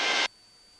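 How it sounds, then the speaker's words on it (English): A light aircraft's stall warning: a short burst of harsh broadband noise, loud and steady for about a quarter second, then cuts off abruptly, leaving faint hiss and a thin high tone. "That noise you hear is the stall warning indicator."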